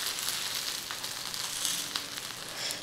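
Sabudana thalipeeth fries in oil on a pan with a steady, moderately loud sizzle and hiss that holds evenly throughout, with no voices.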